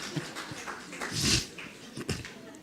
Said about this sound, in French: mon chien te fait une grande léchette